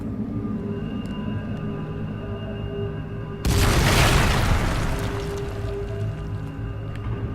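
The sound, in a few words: explosion as weapon cuts through barrier, Dragon Age Inquisition video game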